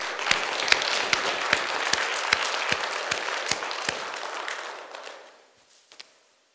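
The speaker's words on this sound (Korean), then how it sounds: "우리 하나님께 감사 박수 드립니다." A church congregation gathered for a worship service applauds steadily, a dense wash of many hands clapping that fades out toward the end.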